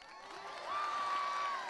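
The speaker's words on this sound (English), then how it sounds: "Give a round of applause for Kayla." Applause and crowd noise at a high school graduation ceremony swells briefly, with a steady background of clapping and a sustained tone running through it, heard at moderate distance.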